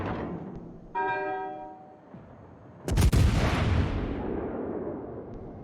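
Naval guns on a warship in World of Warships, firing a heavy salvo that lands as one deep, booming blast and then rumbles away slowly, preceded by a brief tonal hum.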